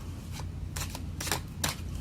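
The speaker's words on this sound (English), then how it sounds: "Sorry I shuffle so long." Angel romance tarot cards are shuffled by hand in a few quick riffling bursts separated by short pauses, close and fairly quiet with no talking.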